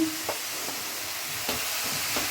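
Yardlong beans and eggplant being stirred and fried in a pan for a vegetarian mixed-vegetable dish, giving a faint steady sizzle with a few soft scraping stirs, no talk.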